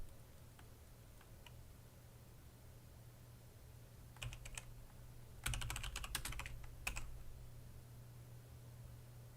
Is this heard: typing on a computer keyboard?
yes